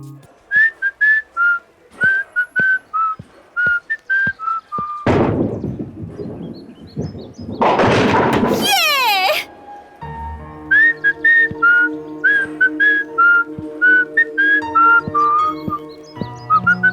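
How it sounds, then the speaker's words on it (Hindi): A woman whistles a melody of short, repeated, bright notes, loud and close, broken midway by a burst of louder noise and a thump before the whistling resumes. "सीटी तुम बहुत अच्छा बजाती हो।"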